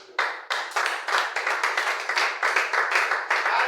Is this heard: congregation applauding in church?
yes